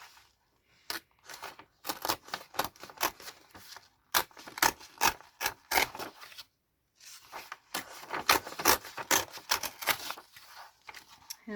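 Pages being torn out of a book one after another for an altered book project, a run of sharp, close papery rips and rustles in clustered bursts with brief pauses between them, no talking.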